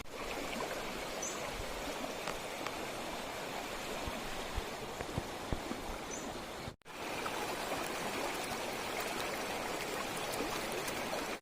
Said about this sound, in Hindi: तो भाई अभी नदी के किनारे हैं, बहुत ठंडी ठंडी हवा चल रही है।